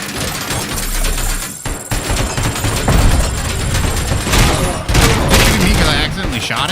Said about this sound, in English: Oh, why is he shooting me?